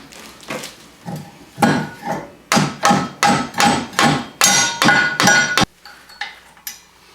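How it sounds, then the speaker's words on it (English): A hammer strikes the rear suspension bushing of a 2015 Wildcat Sport, about a dozen sharp metallic blows in a quick, fairly even rhythm, loud and close, ending with a few lighter taps. "I guess I'll get up and get the right kind of hammer."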